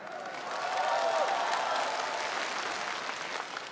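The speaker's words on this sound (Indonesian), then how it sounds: "Aplaus untuk beliau, Mr. Lee Jin Yuan" A crowd applauds the owner of Tiens, Mr. Lee Jin Yuan, at an event; steady, dense clapping fills the hall, swelling early and holding loud throughout.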